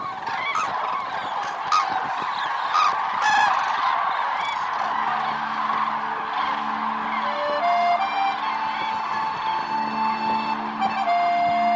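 A large flock of cranes leaving the Hungarian Puszta grassland gives a dense, continuous chorus of honking calls. The calls overlap loudly and steadily throughout, with music rising underneath.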